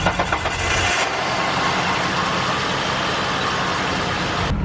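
An old car's engine cranks briefly, then catches and runs at a steady, loud close-up rumble for several seconds before cutting off abruptly.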